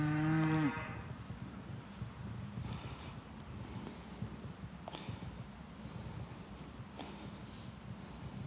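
A cow lows once, loud and close, at the start, followed by rustling and occasional knocks of handling in a herd of Heck cattle being tagged, with no talking.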